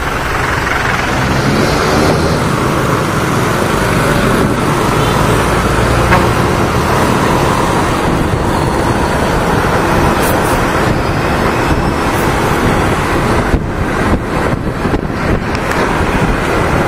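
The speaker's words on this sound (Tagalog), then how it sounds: "Aba na mga truck dito, guys." Road traffic rumbles steadily near the Dampalit mega dike in Malabon City, with trucks passing close in a loud, continuous roar. Heavy wind buffets the microphone throughout, as if it were recorded from a moving motorbike.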